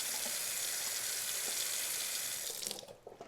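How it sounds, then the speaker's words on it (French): A kitchen tap runs water into the sink with a steady, even rush that continues at a constant level. Near the end the flow is shut off and the sound drops away, with only a few drips remaining. "Voici un robinet. Je fais couler de l'eau."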